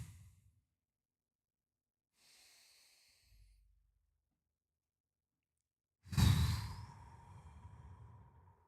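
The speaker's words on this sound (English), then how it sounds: "Let's do some deep breathing." Slow deep breaths, a soft inhale near the start and a long, loud exhale in the second half that trails off, with no talking.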